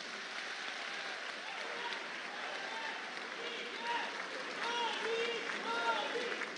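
Audience applause fills a large hall at the inauguration of the Surat Diamond Bourse in Gujarat, a steady, dense wash of clapping with no voice in the clip.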